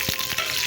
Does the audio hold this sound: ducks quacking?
no